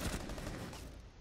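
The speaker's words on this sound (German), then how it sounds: "Die Schüsse sind durch ihr Gesicht gegangen." Gunfire in the video game Rainbow Six, a quick loud burst of several rapid shots that fades out over about a second.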